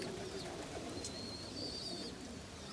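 Homing pigeons, including saddle homer hens and young birds, coo softly and continuously in an enclosed loft, with occasional faint chirps over a steady background hum.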